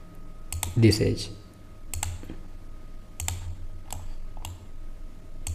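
Computer keyboard keys tapped in a short burst while a value is entered in SolidWorks design software, sharp close clicks at an irregular rhythm, with a soft voice murmuring underneath.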